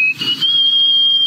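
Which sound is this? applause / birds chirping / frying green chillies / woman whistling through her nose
woman whistling through her nose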